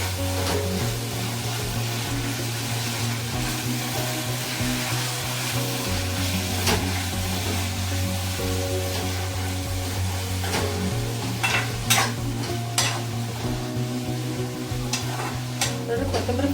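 Coriander leaves fry in oil in a pan for a chutney, a continuous close sizzle with a steady low hum beneath and scraping strokes of a stirring spoon growing busier toward the end.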